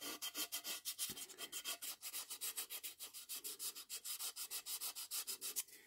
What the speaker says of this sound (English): we're using slightly more coarser sandpaper